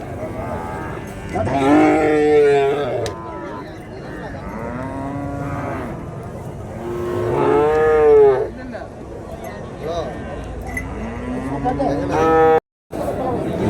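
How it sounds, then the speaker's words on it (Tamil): Cows and bullocks at a village cattle market, horns painted with turmeric, low drawn-out moos repeating several times, loud and close, with crowd chatter and market noise around them. "இதெல்லாம் வளர்ப்புக்கு நல்லா அழகான பசுமாடுங்க"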